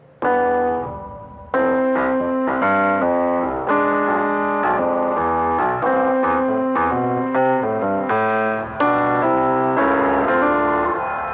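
Melodic synth or keyboard notes play through an Aberrant DSP Lair reverb plugin, heavily filtered and super compressed into a hazy lo-fi tone, with chords sustaining and overlapping in a dense wash.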